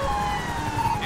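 Police car sirens wailing in GTA 5 during a police pursuit of a suspect, a steady continuous siren tone sustained throughout, loud and close over engine rumble.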